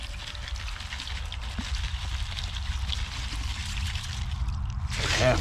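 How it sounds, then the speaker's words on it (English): Half-frozen water pours and trickles over fish fillets being rinsed out on the ice, a soft steady splashing that swells into a louder pour at the end. "Some water. I'm gonna rinse them in."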